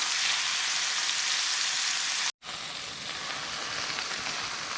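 Chicken pieces with the skin left on fry in Sprite in a pan, giving a loud, steady sizzle and crackle that broke off for an instant partway through, then resumed.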